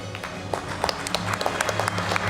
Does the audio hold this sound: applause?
yes